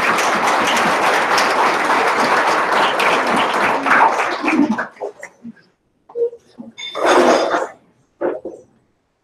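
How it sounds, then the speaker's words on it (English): Audience applause at a spiritual conference: a dense wash of clapping for about five seconds, then tapering into scattered claps and short bursts of voices and cheering. "Another round of applause for Shirley."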